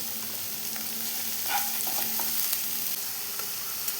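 Vegetables stir-fried in a pan for Hakka noodles, giving a steady close sizzle with occasional scraping and tossing clatter, no voices.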